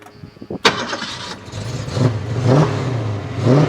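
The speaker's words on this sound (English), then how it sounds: "Look how it sounds this car, unbelievable." A 1970 Ford Mustang Hardtop engine starts with a sharp crank, then settles into a loud, close idle with deep rumbling and repeated throttle blips rising and falling.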